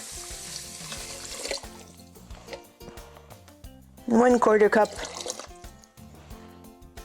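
Water pours into a rice cooker pot while curried quinoa is being made: a steady splashing trickle runs beneath a person's spoken instructions.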